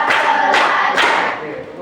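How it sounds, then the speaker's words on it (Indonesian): Several people clap together in a room, giving two or three loud, close bursts that quickly fade into a softer tail, with a faint crowd murmur under them. "Oke, tepuk tangan buat semua."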